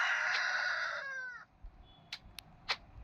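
A rooster crows once loudly in the Roblox game Deadly Delivery, a long strained call that trails off, followed by a few short clucks and quiet rustles.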